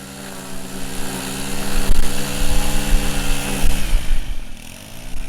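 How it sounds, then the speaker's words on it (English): A power grass trimmer running steadily nearby along a wooded trail, a buzzing, droning motor whine that swells louder and wavers as the cutting head works, then eases slightly toward the end, with no talk. "I was greeted by that, someone trimming the grass"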